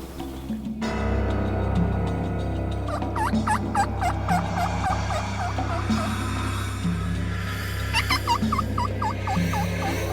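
A wild turkey gobbles in the Kansas countryside during a spring turkey hunt, with two bursts of rapid, rattling gobbles several seconds apart, clear but at some distance over outdoor background noise.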